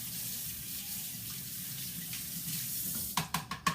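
A colander rinsed under a running kitchen tap, with a steady stream of water splashing through it, then a few sharp clattering knocks as the colander is shaken near the end.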